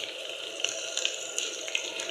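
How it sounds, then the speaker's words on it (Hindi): Water poured from a tap-like stream into a pan of spice mixture (turmeric, salt, nigella seeds, ground coriander, red chilli) for aloo baingan, a steady close hiss of running liquid with a few small splashy clicks. "और इसके बाद मैं इसमें थोड़ा सा पानी डालूँगी"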